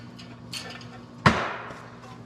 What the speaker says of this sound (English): Pounded in using a seal driver.